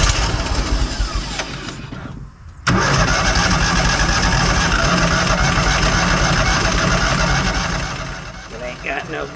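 A Hobart 10,000-watt welder generator with a repaired carburetor cranks briefly, falls quiet for a moment, then catches and runs loudly up close. The engine settles toward the end while faint voices sound nearby.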